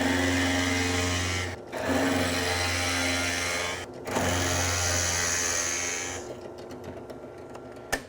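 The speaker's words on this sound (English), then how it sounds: "we take our piece over the drill press with our plug cutter already loaded in" A drill press running steadily as a plug cutter bores wooden plugs from a piece of stock, a loud continuous whine and grind broken by two brief stops, then a few sharp clicks and knocks at the end.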